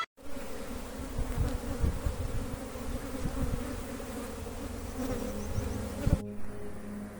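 Honey bees buzz steadily around a hive in spring, a dense continuous drone with no voices before it cuts off near the end.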